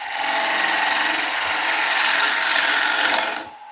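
A turning tool cuts a wooden bowl spinning on a lathe, producing a loud, continuous rasping scrape for over three seconds before it abruptly stops.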